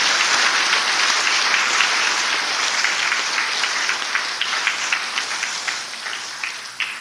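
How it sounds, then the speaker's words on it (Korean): An audience applauds in thanks to God at a Christian gathering, a dense burst of clapping that slowly thins and fades toward the end. "우리 먼저 좋으신 주님께 감사의 박수 드려야 되지 않을까요?"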